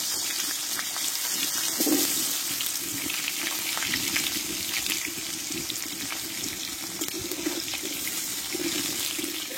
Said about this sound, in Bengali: এই মাছ ভাজার তেলে এবার আমি আলুটা দিয়ে কেটে ধুয়ে রেখেছিলাম আমি ভেজে নেব।